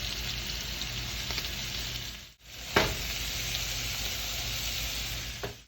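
Chicken strips fry in fat in a pan with a steady, close crackling sizzle, broken once by a brief gap and a sharper burst of spitting as the pan shifts.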